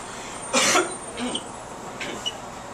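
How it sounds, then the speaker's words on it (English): One person, sick for days with a tight chest, coughs close and loud once, then gives a few fainter coughs and throat clears in a quiet room. "I've been coughing up a storm."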